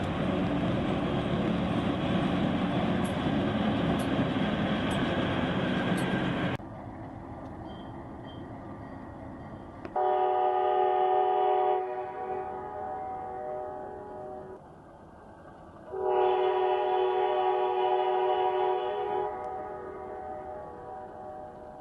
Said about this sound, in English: our train's locomotive had engine problems at the 3-mile point